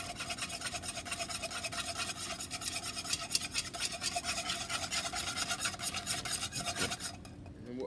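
A whisk stirring béchamel sauce in a pan, a rapid, continuous rhythmic scraping and rubbing close up that keeps a steady pace and eases slightly at the end.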